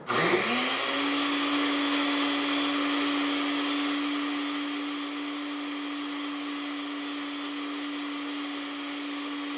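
An electric blender whirs up and runs a green shake with a loud steady motor whine. It holds one pitch throughout, its tone settling slightly lower partway through, with no voices.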